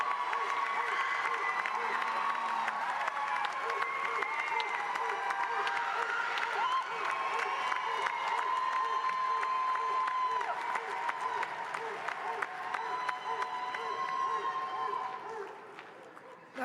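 Audience applause and cheering at a university spring commencement ceremony, a steady sustained round of clapping from a large crowd lasting throughout, with voices mixed in and scattered whoops.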